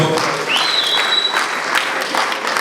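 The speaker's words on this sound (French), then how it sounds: "Chers camarades, nous pouvons nous applaudir pour cette étape." Steady applause from an audience at an academic year closing ceremony fills the whole moment, dense clapping without pauses and no voices over it.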